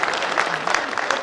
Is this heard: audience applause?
yes